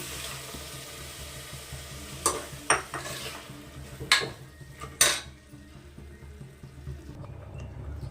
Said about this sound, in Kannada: ಇವಾಗ ಪಾಲಕ್ ಸೊಪ್ಪು, ರುಬ್ಬಿರೋಂಥ ಪಾಲಕ್ ಸೊಪ್ಪು ಹಾಕ್ತಾ ಇದ್ದೀನಿ.